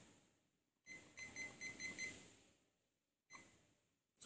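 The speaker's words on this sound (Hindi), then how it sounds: "अच्छा वो अलार्म था" A quick run of electronic beeps from a digital clock with hygrometer and thermometer, about six short alarm tones close together, followed by quiet pauses and brief bursts of handling noise.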